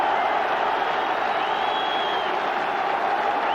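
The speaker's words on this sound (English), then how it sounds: "Listen to that crowd." Rapturous football crowd at a 1983 Rangers v Dundee United Scottish Premier Division match welcoming Jock Wallace, a dense, continuous roar of cheering from a large stadium crowd, distant and sustained without letup.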